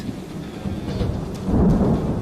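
A tropical monsoon thunderstorm in Singapore: steady heavy rain hisses over a deep rolling rumble of thunder that swells louder toward the end, with no voices.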